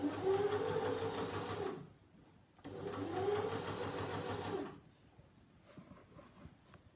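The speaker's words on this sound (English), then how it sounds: "run 2 lines of ease stitching in between the notches" A sewing machine runs ease stitching with a lengthened stitch in two continuous bursts separated by a short pause, its steady mechanical whir close and clear, followed by quiet handling sounds.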